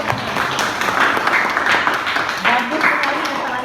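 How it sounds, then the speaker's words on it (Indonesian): Classroom applause for a student's presentation, steady dense clapping from a group throughout, with voices mixed in. "Mari kita berikan tepuk tangan"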